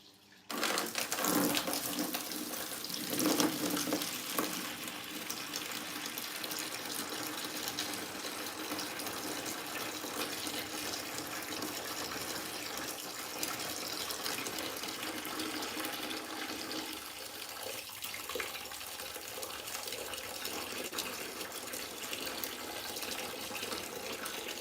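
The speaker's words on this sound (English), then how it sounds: "let's siphon this out and then clean the sponges" Water rushes steadily as it is siphoned out of a fish tank during a water change, a continuous close gurgling flow with no talking.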